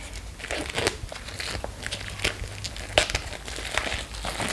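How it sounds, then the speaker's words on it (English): Plastic film being peeled and crinkled off a Kawaaii tarot card box, close-up irregular crackles and crunches with scattered sharp snaps. "So I'm going to release it from the plastic."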